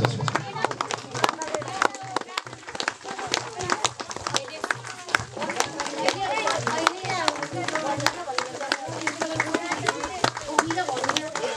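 Dense, steady clapping from a ceremony audience at the Sundhara reconstruction campaign in Gharamdi, Myagdi, sustained for the whole stretch with a voice talking over it.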